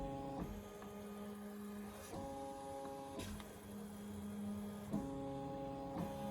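A Ricoma EM1010 embroidery machine traces the outline of a design on a blanket, its motor giving a steady mechanical whir with tonal hum bands that shift pitch as the frame moves in several distinct passes.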